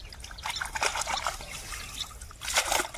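Fishing net rinsed in muddy pond water while catching fish, giving a steady trickling and sloshing of water with louder splashy bursts near the end, close by.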